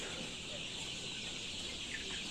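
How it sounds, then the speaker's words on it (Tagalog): Lohmann White chickens clucking and murmuring together at close range over a steady background hum, a short busy stretch of flock noise. "ang lahi ng manok natin ay Lowman, Lowman White"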